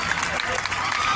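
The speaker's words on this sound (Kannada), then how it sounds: "ಚಪ್ಪಾಳೆ ಹೊಡೀರಿ" Children clap together at a Constitution Day programme in Mundaragi, a dense, continuous burst of applause filling the hall.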